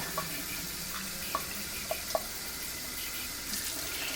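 Cool tap water runs steadily into a container being filled to the top, a constant close hissing stream with a few small clinks and no talking.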